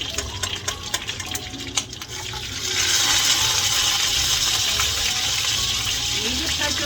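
Water gushes steadily from a kitchen tap, starting partway through and running loud and continuous to the end, preceded by clattering and brief kitchen handling noises.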